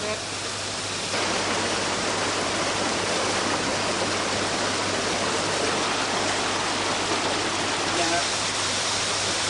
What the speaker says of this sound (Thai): ไหลผ่านร่องน้ำและพื้นหิน ที่มีความสูงลดหลั่นกันลงมา ต่างระดับตลอดลำน้ำ